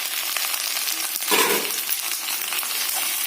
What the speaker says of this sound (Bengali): ডাটা বিনস, সিম, কাঁচকলা, এই সবজিগুলোকে একটুখানি কষাবো